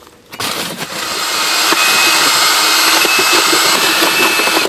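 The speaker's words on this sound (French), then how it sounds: "on va se munir d'un mélangeur à hélice si vous n'avez pas un mélangeur professionnel" Electric paddle mixer stirring lime plaster powder into water, a steady continuous motor whir with churning grit, loud and close, running nearly unbroken after a brief start.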